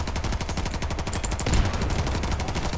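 Rapid automatic gunfire in the R.I.P.D. video game, a fast, even stream of loud close shots with a heavier impact midway, almost no talk over it.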